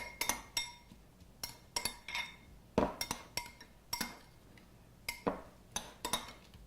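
A spoon stirs ingredients in a bowl, giving a string of light, irregular clinking taps against the dish, faint and close with no talking.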